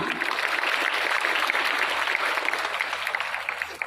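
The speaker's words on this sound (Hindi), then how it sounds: "बेटे तालियां।" Children applauding at a school annual day function, a dense, steady wash of many small hands clapping together, sustained and fairly close for the whole stretch without pause.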